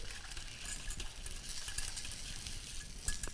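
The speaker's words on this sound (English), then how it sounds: "My beautiful wire whisk. Whisk that in a little bit." A wire whisk stirs a liquid mixture in a bowl, making quick, busy clicking and scraping in a rapid, uneven rhythm at a moderate distance.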